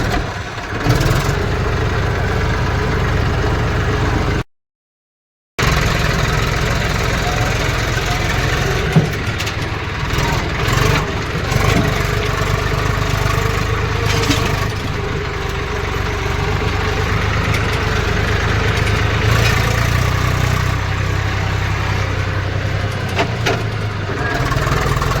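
A truck engine idles steadily nearby as a heavy, continuous low rumble at a farm yard where a tractor tyre was being fitted, with a brief gap of silence early on.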